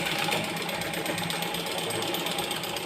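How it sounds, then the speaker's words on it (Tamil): A sewing machine stitches a bias-cut cloth strip, a fast, steady mechanical chatter running continuously at close range with no talking. "இப்போ நான் இதை இந்த மாதிரி வேணால் தைச்சி காட்டுறேன் உங்களுக்கு."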